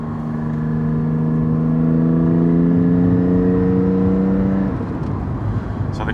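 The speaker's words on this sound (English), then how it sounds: "I want to hear the exhaust." A Porsche GT4's exhaust drones steadily and loudly from inside the car while driving, its tone rising gradually as the engine pulls before easing off near the end.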